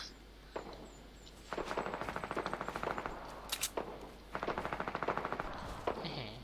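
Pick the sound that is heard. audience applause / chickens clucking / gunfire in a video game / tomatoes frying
gunfire in a video game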